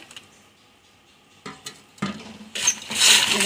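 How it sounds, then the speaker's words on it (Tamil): A spoon stirs a beef pakoda mixture with tomato and coriander in a pan, starting with faint clicks and building into louder scraping and rising sizzle toward the end. "கிளறி விட்டுக்கலாம்"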